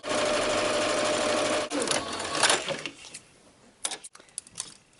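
A home sewing machine stitches and back tacks a seam on a reversible bandeau crop top: a loud, steady run of stitching, then a break and several short, choppy bursts of reverse stitching.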